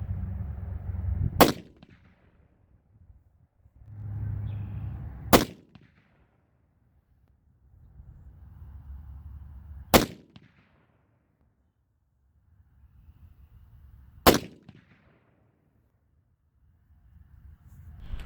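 Four loud 7mm PRC rifle shots fired outdoors as a group, evenly spaced several seconds apart, each a sharp crack with a short decaying tail, separated by low rumbling wind or background noise.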